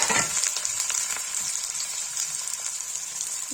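Onions sizzling in a hot pan while cooking palak paneer, a steady loud frying hiss throughout with a brief louder burst as they go in at the start, no talking.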